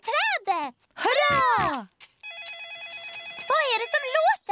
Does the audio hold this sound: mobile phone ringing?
yes